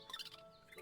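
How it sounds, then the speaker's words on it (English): Birds chirp in the video game Cookie Run: Kingdom, a quick burst of faint, high tweets lasting under a second. "Uh-oh. Birds!"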